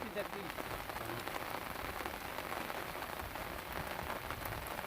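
Rain falls steadily on the Brahmaputra river during hilsa fishing, a faint, even hiss of drops on water and surfaces throughout.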